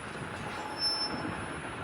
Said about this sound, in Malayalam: കന്യാകുമാരി രാമേശ്വരം എക്സ്പ്രസിൻ്റെ ലോക്കോ ഇതാ അങ്ങനെ